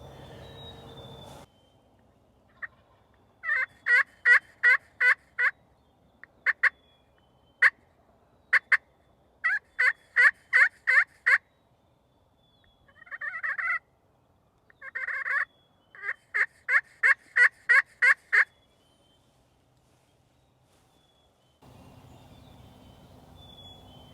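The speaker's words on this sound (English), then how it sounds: "the turkeys are gobbling" Wild turkeys gobble in repeated bursts at a moderate distance, with quiet pauses between the calls.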